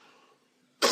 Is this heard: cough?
yes